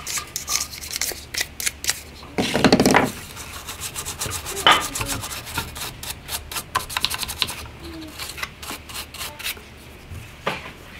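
Dried grass is scrubbed and brushed off a Kobalt 40V weed eater, giving a close run of quick scratchy rubbing strokes with one louder scraping burst early on and lighter rustles after.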